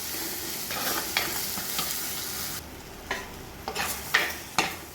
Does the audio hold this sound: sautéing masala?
yes